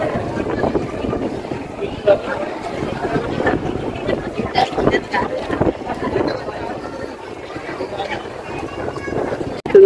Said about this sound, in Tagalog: Sobrang malamig, ang lakas ng hangin.